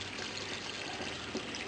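Pumped water trickles and pours into the grow bed of a home aquaponics tilapia breeder setup, a steady close stream with no talk.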